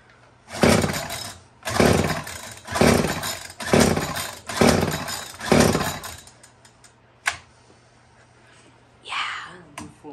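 A repaired weed wacker's small two-stroke engine is pulled and revs in six loud, rhythmic bursts that each rise and fade. A single short burst follows, then it sputters briefly near the end.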